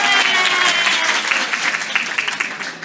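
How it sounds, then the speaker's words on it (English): A conference audience at a Swanwick gathering claps hands in a dense, close burst of applause that gradually thins out over a few seconds. "we can clap hands for them anyway"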